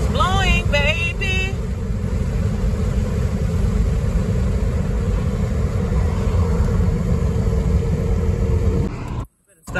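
A car drives along a road, its steady low rumble of road and engine noise filling the cabin continuously on a windy day, with a brief high squeal early on and the sound cutting out just before the end.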